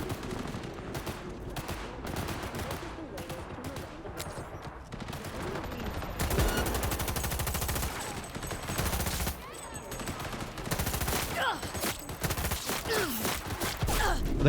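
Sustained heavy gunfire from police in Cyberpunk 2077, rapid overlapping shots and bursts continuing throughout, loud and dense with other game sounds mixed in.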